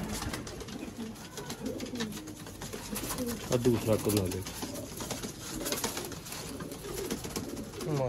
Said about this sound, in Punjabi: ਵੱਡੀਆਂ ਬਗਲਾਂ ਵਾਲੇ ਕਬੂਤਰ ਨੇ